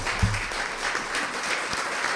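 Dense, steady applause from a church congregation fills the clip, many hands clapping at once throughout.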